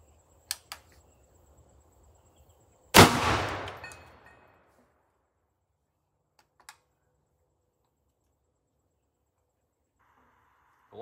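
A single .50 caliber black powder rifle firing a 2 pellet load cracks out loudly and alone, its boom trailing off over about a second, with a few faint clicks before and after.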